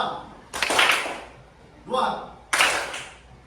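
Children clapping together in a counting clap game, with three distinct group claps: a longer burst, a shorter one, then another burst, separated by brief pauses. A voice leads between the claps.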